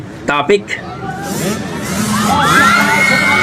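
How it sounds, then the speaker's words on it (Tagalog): A crowd screams and cheers as the runner Zaira passes, rising into a sustained roar of high-pitched shouting after a brief burst of nearby voices at the start. "Sigawan talaga bawat daan ni Zaira oh."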